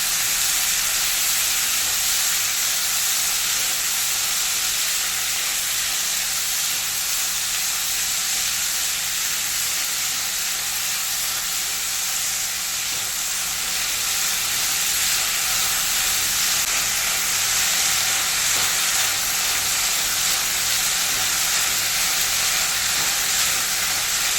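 Tomatoes and onions frying for a tomato chutney, a loud continuous sizzle and hiss filling the whole stretch with faint stirring underneath, close and unbroken, no voices.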